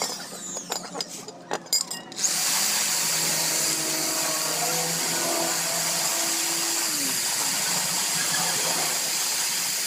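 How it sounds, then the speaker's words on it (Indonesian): Steady whine of an electric drill driving a reamer bit to enlarge a motorcycle clutch bell, a Yamaha Vega ZR part, running continuously and close after a few brief knocks. "bisa pakai bor tuner"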